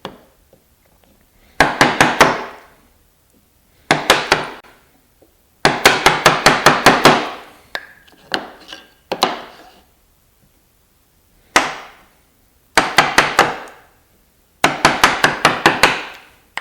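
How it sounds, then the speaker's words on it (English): Chisel chopping notches into a wooden side-table board, sharp rapid strikes in tight bursts of four to six blows, repeated several times with brief pauses between, close and loud. "We'll just chop it from both sides."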